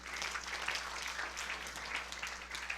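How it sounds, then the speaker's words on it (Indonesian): Congregation applauding in a church during a sermon: a steady, diffuse wash of many hands clapping, moderately distant and sustained throughout without individual claps standing out. "Yang setuju berikan tepuk tangan yang meriah."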